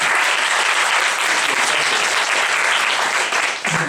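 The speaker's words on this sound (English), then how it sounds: "Maybe we could give him a round of applause." Audience at an alumni interview gives a round of applause, a dense steady clapping that fills the room loudly and evenly for a few seconds before tapering slightly at the end.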